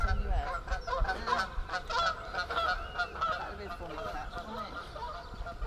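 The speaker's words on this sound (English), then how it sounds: "We've got some geese. We've got the geese, look." A flock of geese honks repeatedly outdoors, a busy overlapping chorus of calls at moderate distance over faint background noise, with some talking mixed in.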